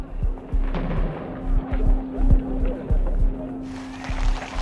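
Heavy artillery booms fire repeatedly in an uneven sequence for a traditional 21-gun salute at a royal occasion, with loud blasts over a steady low drone and crowd noise, some shots close together.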